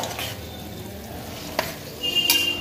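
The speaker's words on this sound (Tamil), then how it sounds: "இப்போ அடுப்ப கூட்டி வச்சிட்டு கொஞ்சம் காயை நல்லா வதக்கி விட்டுக்கோங்க" Vegetables sautéed over raised heat in a pan for vegetable biryani, a soft continuous sizzle with spatula stirs and a sharp metallic clink of utensil on pan.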